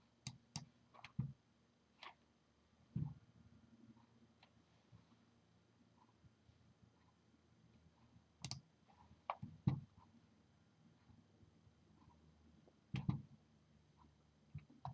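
Computer mouse clicking, a handful of sharp, isolated clicks spaced irregularly over a quiet background, close and dry.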